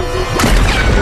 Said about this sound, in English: With a massive explosion, I killed him.